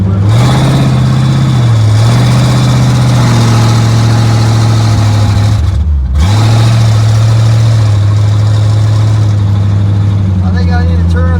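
A Pontiac Firebird engine runs steadily at a loud, close rumble with a brief dip in the middle, and a slight rise toward the end.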